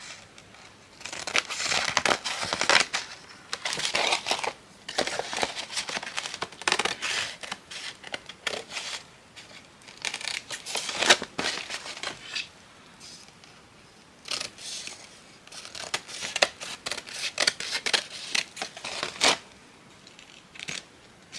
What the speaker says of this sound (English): Now I'm going to just cut the excess off